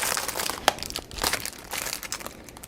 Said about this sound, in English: sorry for the noise and the glare, but these are from clear bags